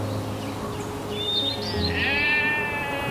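Goats bleat in Dermaji, a village of goat farmers: a wavering, nasal bleat rises over a low steady hum, followed by a second longer, louder call, with faint chirps in the background.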